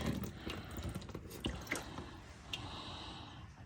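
Water trickles and drips out of an old Bobcat skid steer at a scrap yard, a faint uneven liquid dribble with small splashes, steady throughout with no voices.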